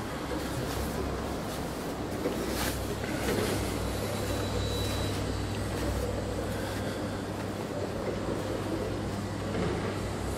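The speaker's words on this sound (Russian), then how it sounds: "Трактор на ходу." A Kirovets K-701 tractor engine runs outdoors, giving a steady low drone with a constant rumbling hum that stays even in level throughout, with no speech over it.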